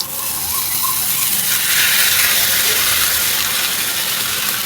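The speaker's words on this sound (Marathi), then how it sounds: "थाकलेली थापलेली भाकरी तव्यावर घालायची" A rice bhakri flatbread, moistened with water, sizzles and hisses steadily on a hot tava over a gas flame, a continuous close steamy crackle that grows a little louder partway through.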